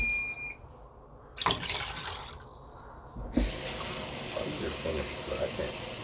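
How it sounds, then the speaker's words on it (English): Tap water runs into a measuring cup for an Instant Pot French pea soup, a steady splashing stream of moderate loudness that begins partway through and continues, with kitchen noise before it. "then we'll also need 3 cups of water"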